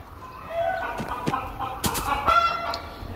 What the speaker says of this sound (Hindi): एक तो ये मुर्गे हैं जो